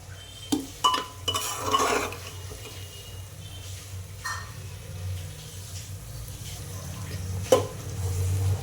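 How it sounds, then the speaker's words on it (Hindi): Boiled chickpeas roasting with spices in a pan, stirred with a spoon that clanks and scrapes against the metal in several bursts over a soft, continuous sizzle. "साथ साथ थोड़ी देर मतलब 2 मिनट करीब इसे साथ में भूनना है हमें मसाले के साथ।"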